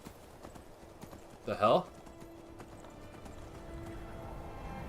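Horse in Skyrim giving a short, loud whinny with some hoof clatter, brief and sudden over faint game ambience, while a man mutters in surprise.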